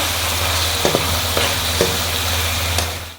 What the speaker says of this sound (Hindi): अब अच्छे से हम भून लेंगे